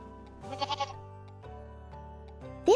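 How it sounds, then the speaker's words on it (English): A single goat bleats in a wavering, nasal call lasting a few seconds, close and clear with no talking, ending in a short louder cry. "This is a goat."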